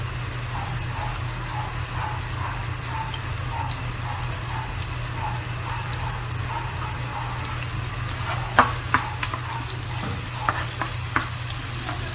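Ginger and onion sauté in hot oil in a pan, a steady, moderately loud sizzle and crackle with scattered pops and a few sharper clicks and taps toward the end.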